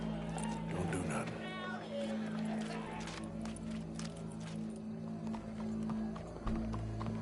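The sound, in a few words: horse hooves clip-clopping in a PS4 video game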